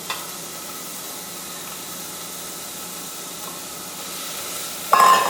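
Olive oil coating the bottom of a pot gives a steady, soft hiss throughout, with a brighter, louder sizzle flaring up near the end; no one speaks.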